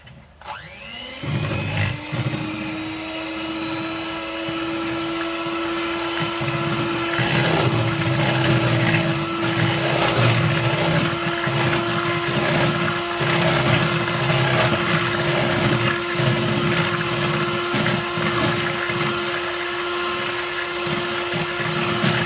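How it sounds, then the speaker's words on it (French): An electric hand mixer beats cake batter made with milk and agar-agar for an Oreo and chocolate cake, giving a steady, loud motor whine throughout with slight rattling changes in pitch as the beaters move through the bowl. "Et je vais mélanger avec le batteur électrique."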